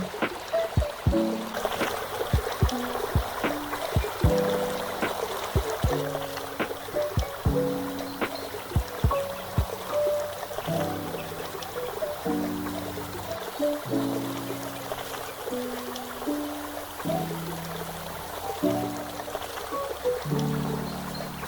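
A small waterfall in a shaded cafe garden with a koi pond in Korat trickles and splashes steadily beneath gentle plucked background music.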